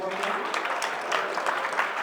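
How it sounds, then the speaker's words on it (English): A live audience at a blindfolded mentalist performance breaks into a short burst of dense, steady applause that fills the whole moment without pause. "Give her a round of applause."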